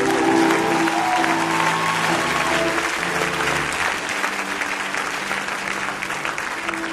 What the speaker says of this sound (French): Acclame le nom du Seigneur,